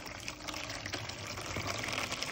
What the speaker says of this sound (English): Now I am putting in, this is not boiling water.